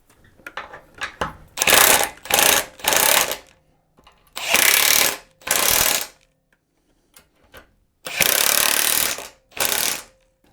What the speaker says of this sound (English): Hit them with the impact a couple times here.